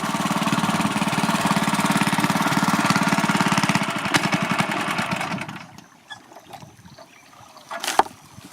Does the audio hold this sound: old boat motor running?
yes